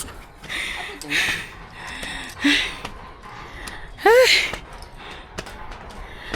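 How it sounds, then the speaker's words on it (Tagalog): Heavy panting from people climbing uphill on Boracay: breathy gasps and voiced exhales come in bursts every second or so, close to the listener, over faint background noise. "Hingal-hingal na kami."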